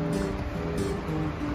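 Calm sea waves wash steadily onto the shore at a La Serena fishing spot, a soft continuous surf rumble with faint wind, and no voices.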